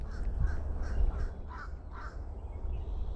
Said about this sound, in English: He sounds like a fish crow.